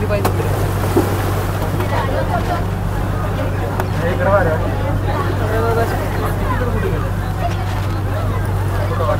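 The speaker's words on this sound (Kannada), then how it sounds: "ಸ್ಟಾರ್ಟ್ ಆಗ್ತಾ ಇದೆ ಬೋಟ್ ನೋಡಿ." A boat's motor starts and drones low and steady throughout on the Arabian Sea off Mumbai, with wind and the murmur of several voices over it.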